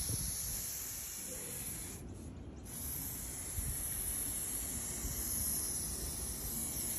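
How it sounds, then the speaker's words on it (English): Spray paint from a rattle can hisses in a steady, continuous spray onto a 1997 Honda Integra outdoors on grass, with a brief pause before resuming. "A rattle can."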